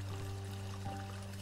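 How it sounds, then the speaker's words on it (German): Steady flowing water in the video game Children of Silentown, a soft continuous pouring stream under a low ambient hum, with no talking. "Hier ist übrigens Wasser"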